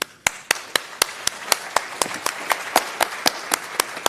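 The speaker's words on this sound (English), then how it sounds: "how nice it is to be able to clap" A few people clap at the close of a panel session in a conference ballroom, giving sharp, evenly spaced claps at a steady rhythm, nearby and fairly loud against a quiet room.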